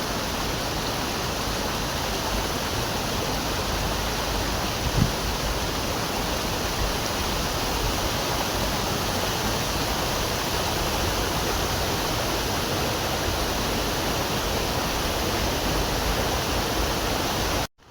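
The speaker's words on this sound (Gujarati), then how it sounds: "તમે જોઈ શકો છો અમારી નદી." A village river fed from the hills rushes steadily past, giving a dense, even roar of flowing water that holds at the same level throughout, close by, with no voices.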